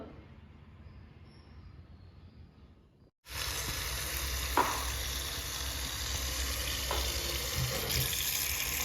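Spinach leaves from a home garden are washed under a running kitchen tap, a steady loud gush of water that starts abruptly after a few seconds of quiet and continues with small splashes, no talking.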